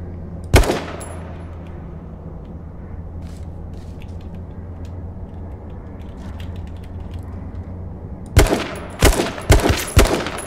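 Gunfire in the PC game King of the Kill: a single sharp shot early, then a low mechanical hum, followed by a rapid cluster of loud close shots near the end.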